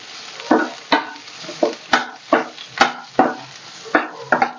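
A spoon stirs green chillies with asafoetida in a hot frying pan, about a dozen rhythmic scraping strokes, each a short crisp swish with light sizzle, close and clear.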